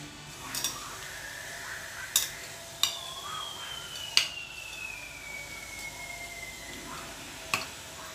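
Food is stirred and mixed in a pot with a utensil, giving quiet scraping and a handful of sharp clinks against the side, spaced irregularly and heard up close in a quiet room.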